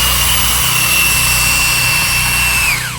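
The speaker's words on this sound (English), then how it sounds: "I'm gonna go ahead and hit it with the drill one more time" A power drill runs at a loud, steady high whine while detailing the carpet inside a car, then spins down at the very end with the pitch falling away.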